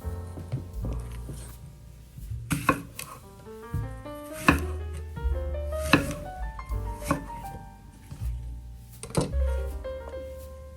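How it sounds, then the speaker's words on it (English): Knife chopping apples into bite-sized chunks on a board, a series of sharp close thuds at an uneven pace, with soft background music underneath. "chop your apples into bite-sized chunks"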